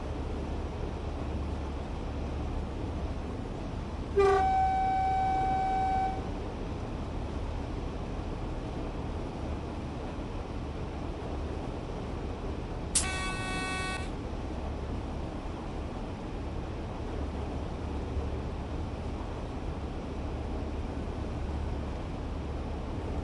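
A train horn in the game Train Sim World sounds twice, each blast brief and bright against a steady hiss of background noise.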